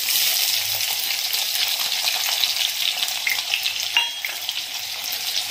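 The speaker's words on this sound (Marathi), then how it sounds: "कांदा लाल होईपर्यंत परतून घेऊयात" Sliced onion frying in oil in a pan, a steady close hiss and crackle that runs without a break, with faint stirring scrapes and no voices.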